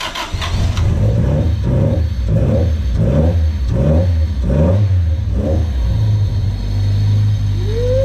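A rebuilt Honda D16Z6 engine with a new distributor fires up and is revved in a steady series of rhythmic blips, loud and close, settling into a rougher idle at the end.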